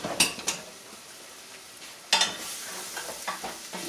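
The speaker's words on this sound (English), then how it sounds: "Stir this up a little bit." Marinara sauce made from scratch being stirred in a pot: faint scrapes and clinks of a utensil, a sharper knock near the middle, then softer bubbling and scraping.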